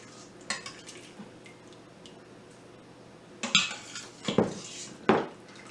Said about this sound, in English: And I'm just spooning it here into the bowl.